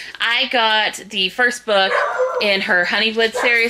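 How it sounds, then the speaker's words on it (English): A dog barks repeatedly indoors, sharp yips and barks breaking up someone talking steadily in the foreground. "Sorry about the dog barking."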